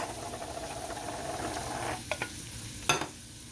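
Chicken mixture with canned Rotel tomatoes is stirred in a pan over a soft steady sizzle, with a few wet scraping clacks of the spoon near the end. The sound is close and plays without talk.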